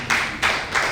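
A standing audience claps in short bursts to welcome the Katikkiro and a government minister at a formal engagement event, three quick swells of applause.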